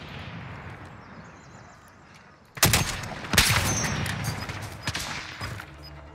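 Video game gunfire, a Portuguese-language battle royale match, comes after a quiet stretch of ambient noise. Sudden loud bursts of shots and crackling fire follow and slowly die away.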